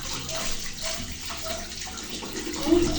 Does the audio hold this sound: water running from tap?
yes